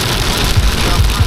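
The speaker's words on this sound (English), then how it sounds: "it's a torrential downpour." Torrential downpour on a morning long run, a dense steady hiss of heavy rain filling the clip at constant loudness, with faint low rumbles underneath.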